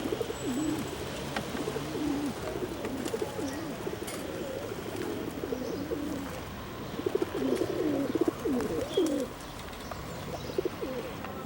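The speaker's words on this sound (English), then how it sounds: "Pigeons galore." Pigeons cooing in Amsterdam, several soft throaty coos overlapping in repeated phrases, close by, with faint chirps and street ambience behind.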